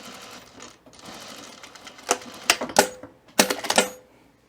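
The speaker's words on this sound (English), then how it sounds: "I'm just going to use my single needle machine." A single-needle sewing machine runs a straight stitch along a V-neck center seam, pivoting at the fold line, heard as a close mechanical whir in short stop-start bursts with pauses between.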